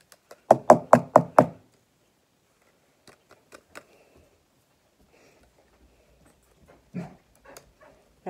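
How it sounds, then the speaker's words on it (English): Dog barking indoors, five quick loud barks in a row, followed by a few faint scattered knocks and a softer yelp a few seconds later. "My dog's barking."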